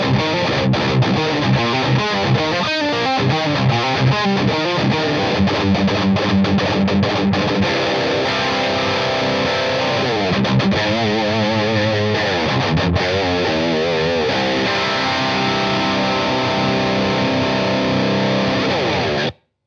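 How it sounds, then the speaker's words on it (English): A heavy, distorted rhythm guitar plays through a metal tube amp head with no pedals, loud and close, driving chugged riffs and sustained chords for the whole stretch with no voice. "Now we're going to get through some really heavy rhythm tones."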